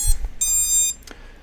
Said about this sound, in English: So you heard it kind of beep up there.